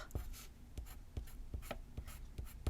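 Colored pencil strokes across paper while shading a red star ornament drawing, a steady rhythm of scratchy, brushing strokes roughly every half second, close and quiet with no talking.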